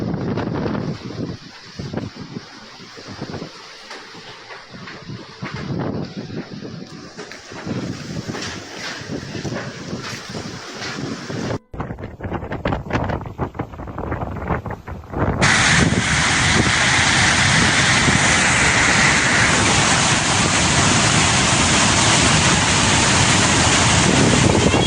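Storm wind and a swollen, flooding river after a cloudburst in India: a loud, continuous roar of rushing water and wind buffeting the microphone, with gusts through the first half and a steady, louder roar at the end.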